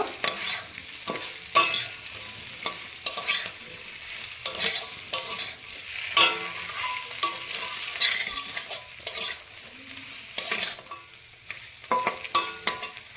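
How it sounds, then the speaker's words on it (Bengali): Fried koi fish being stirred and sautéed in a spicy masala in a pan, with steady sizzling and repeated scraping strokes of a spatula, close and fairly loud with no talk. "এরপরে এই ভেজে রাখা মাছগুলো এই মশলার মধ্যে দিয়ে আর একটু কষিয়ে নেব"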